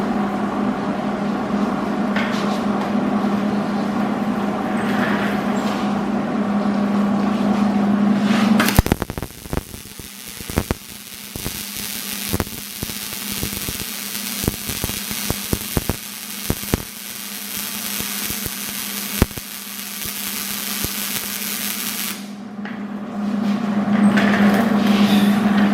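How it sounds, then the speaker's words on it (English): Arc welding on a steel stand for a Weber Q propane barbecue grill, a steady buzzing crackle broken by sharp bursts and pops, fairly close and loud, with quieter background hum before and after. "Fully weld the other side."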